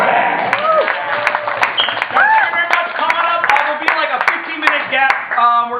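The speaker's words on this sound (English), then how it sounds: "Give yourselves one big round of applause" An audience at an improv comedy class graduation show claps steadily with scattered whoops and cheers riding over the clapping, fairly close and lively throughout.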